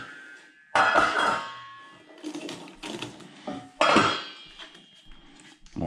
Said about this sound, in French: je vais mettre tout ça dans ma marmite